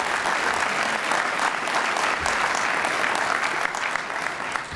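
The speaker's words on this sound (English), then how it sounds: "Let's give the governor another round of applause." A live audience applauds the governor at a Louisiana Legislative Black Caucus scholarship jazz brunch, steady dense clapping that holds for the whole stretch with a faint crowd murmur underneath.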